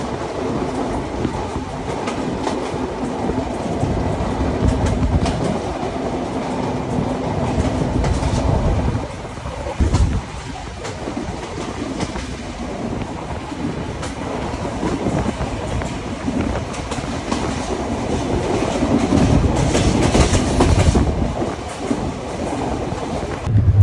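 The Ruposhi Bangla Express runs between stations toward Jessore Junction at night, heard from an AC seat inside: a continuous heavy rumble with rhythmic clickety-clack of wheels over rail joints and occasional squeals, no talking.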